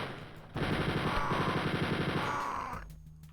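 Sustained automatic gunfire in Wolfenstein 3D, a dense stuttering burst of retro game machine-gun shots that runs for about two seconds and then cuts off, loud and alone.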